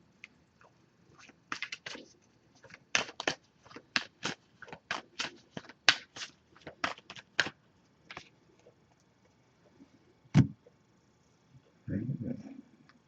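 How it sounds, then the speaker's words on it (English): A Wisdom of the Oracle tarot deck being shuffled by hand, a rapid run of crisp card riffles and slaps in quick bursts, followed by a pause, one sharp tap and a short rustle. "So I'm just going to give this a few shuffles now"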